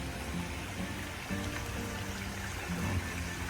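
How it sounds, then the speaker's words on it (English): Water in a creek at Caledonia State Park in Pennsylvania gives a faint, continuous wash of flowing sound with no voices over it. "There's a creek right here."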